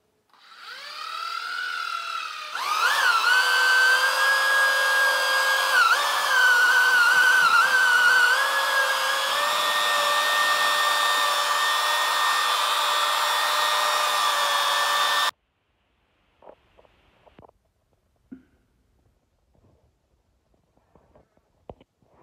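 An electric mixing machine churns bee pollen substitute, starting with a rising whine, then jumping to a loud, steady high-pitched motor drone for about twelve seconds before cutting off abruptly, followed by faint scattered clicks and handling noises.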